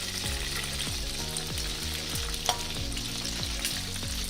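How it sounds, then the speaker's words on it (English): Prawns fry in hot oil with a dense, continuous sizzle and crackle, close up, with occasional soft stirring or turning sounds and no voices. "We have to fry them until they turn golden brown from both the sides."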